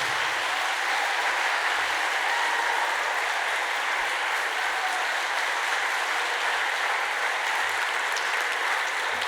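An audience claps in dense, steady applause after an Indigenous oration, a continuous wash of hands that fills the hall evenly for about nine seconds without a break.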